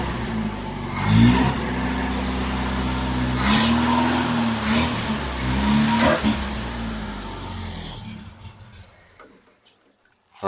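A 1971 Toyota Celica engine cranks and fires with a rough, uneven idle, pulsing revs rising and falling for several seconds before cutting out, close by.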